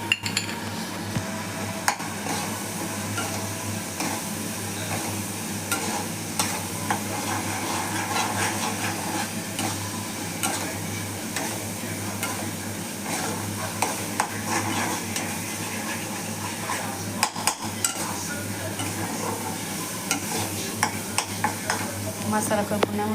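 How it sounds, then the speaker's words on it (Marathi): Masala with red chili powder being stir-fried in a pan, a continuous sizzle with frequent scraping and clinking of a spoon against the metal, steady and close for the whole stretch. "मसाला चांगला परतून द्यायचा"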